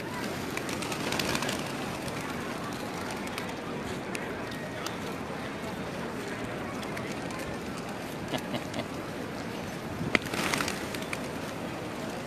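Many pigeons coo and flutter in a busy outdoor square in Mecca, a continuous soft murmur of birds with occasional wing flaps.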